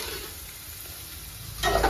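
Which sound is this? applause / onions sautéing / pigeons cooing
onions sautéing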